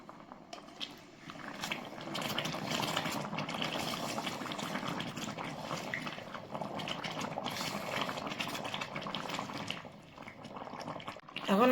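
Meat cooking in an electric pan after boiling water is added: a continuous bubbling, hissing simmer at moderate volume, close by and without talk.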